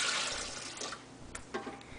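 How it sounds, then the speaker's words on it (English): Warm water, two cups, pours into a KitchenAid mixer bowl for Amish white bread, a close rushing splash that starts strong and tapers off, followed by a few small knocks. "Okay, Karis, she's going to first add to our KitchenAid mixer bowl 2 cups of water."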